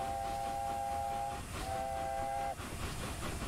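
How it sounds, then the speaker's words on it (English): Two tooted blasts from a steam locomotive whistle in the Train Simulator game on the Mallard Pullman, a longer tone followed by a shorter one, heard moderately loud over a constant rumbling train background. "Yep, we'll blow the whistle twice."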